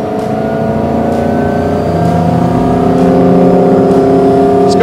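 A Malibu Wakesetter 22 MXZ ski boat engine drones steadily at close range, its pitch shifting and rising slightly as the boat turns, with wind and water noise over it.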